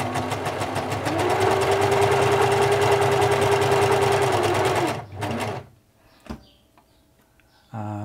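A Singer Futura 2002 electronic sewing machine from the 1980s runs noisily with a fast, steady whirring hum for about five seconds, then stops, followed by a few short mechanical clicks and a brief restart near the end.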